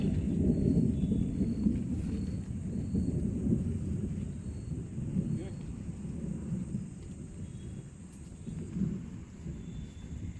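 First monsoon rain falls outdoors during a crab-catching outing as a dense, steady low rumble of heavy rainfall, with faint chirping insects and occasional voices in the background.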